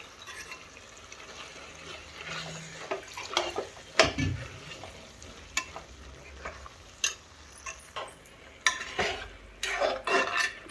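A spoon stirs coconut milk into a cabbage and green peas curry in a cooking pot, giving wet, irregular scraping and sloshing strokes with a faint sizzle, close and moderately quiet, with no talk.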